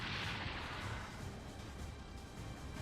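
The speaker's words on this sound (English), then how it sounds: "what was that explosion?" A rumbling explosion in the video game Super Robot Wars Y, with a broad blast at first that fades into a low, lingering roar.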